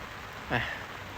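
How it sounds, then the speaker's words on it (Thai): Rain falls steadily on a fishing trip at Huai Tueng Thao, Chiang Mai, a constant soft hiss with one brief louder swell partway through, no talk. "อัปเดตให้เห็นแล้วว่าฝนมันตก"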